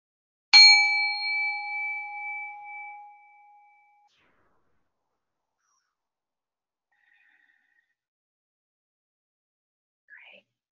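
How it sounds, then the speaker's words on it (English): A single clear meditation bell strike rings out and fades slowly over several seconds, leaving a long resonant tone before silence. "I'm going to ring a bell"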